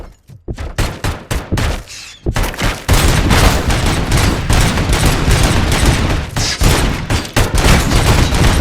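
The ED-209 robot fires at close range in RoboCop: Rogue City. Separate heavy shots come first, then a sustained, loud barrage of automatic fire with booming impacts continues unbroken.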